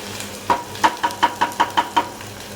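A spoon stirs turmeric into chicken curry masala in a pan, eight evenly spaced scraping clacks against the metal, close and clear over a soft background hiss.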